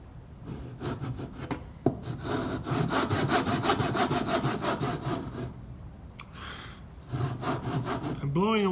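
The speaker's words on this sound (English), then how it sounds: "saw down to my line" A hand saw cuts down to a marked line in wood for a cross lap joint. Brisk, rhythmic rasping strokes run close and steady, with a brief pause before the sawing resumes.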